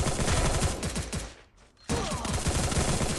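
Rapid video game gunfire rattles in dense bursts, loud and close, with a brief lull near the middle before the shooting resumes.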